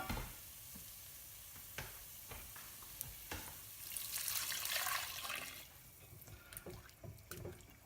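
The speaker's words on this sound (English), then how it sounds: "so I'm just going to add my stock." Stock poured into a pan of risotto rice with mushrooms, giving a soft sizzle and liquid splashing that grows louder midway, broken by scattered stirring clicks, close and fairly quiet with no voices.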